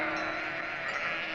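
A sheep bleating in a farmyard folk tale, one sustained, wavering bleat, loud and close, with no other sound around it.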